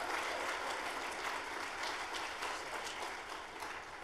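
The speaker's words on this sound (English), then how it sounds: "Let's practice a round of applause" An audience at a School of Code demo day claps in a practice round of applause, a steady, dense wash of many hands sustained throughout without voices.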